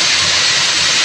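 Loud, steady hiss of compressed air blasting from an air nozzle on a knitting machine, a harsh broadband rush heard close up and without a break.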